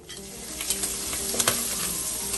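Sliced onions fry in hot oil for Nigerian fried rice, making a brief, steady, close sizzle with a few small pops and crackles and no talking.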